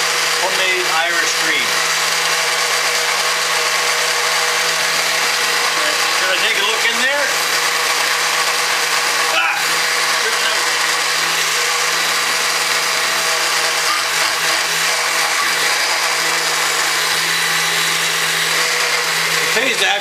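A KitchenAid blender runs steadily and loudly the whole time, its motor whine constant and unbroken, with a voice talking faintly beneath it.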